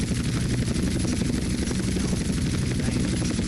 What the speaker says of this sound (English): It's the helicopter itself that's literally causing the slowdown in my video.